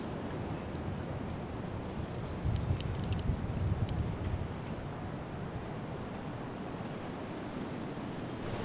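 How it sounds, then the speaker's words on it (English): Strong, gusty spring wind outdoors on Michigan public land roars in a steady broadband rush against the microphone, swelling into a stronger gust midway before easing back to a constant blow. "Gotten pretty windy today,"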